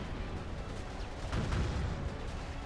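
Artillery pieces firing in the real-time strategy game Rise of the Reds, a dense rumbling barrage with a swell of booming blasts midway, steady and loud with no voices over it.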